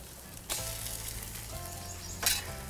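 Grandma's French toast sizzles loudly on a Blackstone griddle just after being flipped, a constant frying hiss broken by two sharp spatula scrapes against the flat-top, with no voices.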